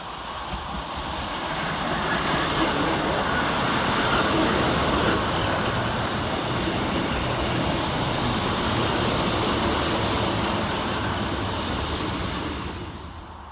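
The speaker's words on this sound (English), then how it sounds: "Arriving next into the station is 156502 and 156439, working the 1637 Scotrail service from Glasgow Central to Kilmarnock." A pair of Scotrail Class 156 diesel trains arrives at Pollokshaws West station, a broad rumble of wheels and engine that swells to a peak midway and then eases off as the units slow, heard alone.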